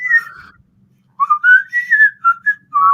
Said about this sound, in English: See, I can whistle, but I can't change the pitch.